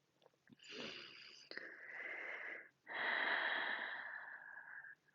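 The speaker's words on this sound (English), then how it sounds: "Deep breaths in. Long, slow breaths out." Slow, deliberate breathing during a cardio yoga workout: a long airy inhale followed by extended exhales, close and breathy with a hissing, slightly wheezy edge and short gaps between breaths.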